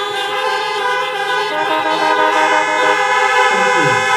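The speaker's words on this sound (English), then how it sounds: "Reverend Martin, could they do one more honk and flash their lights?" Car horns honk together at a drive-in Christmas carol service in a Lyme Regis car park. Many sustained horns of differing pitches blare at once and overlap continuously, loud and dense, with no voices.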